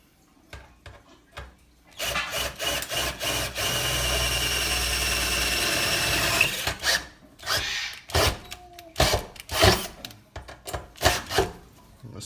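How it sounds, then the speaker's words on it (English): A power drill whirs steadily for several seconds, drilling a through hole for a chrome faucet on a water filtration system install, surrounded by sharp clicks and handling knocks before and after. "Now drilling a through hole for the chrome faucet."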